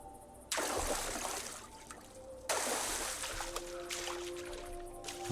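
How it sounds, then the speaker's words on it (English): Water splashing in the video game Uru, two bursts of close, rushing splashes that each start suddenly and then settle into trickling, with a faint steady tone underneath. "I like playing in water."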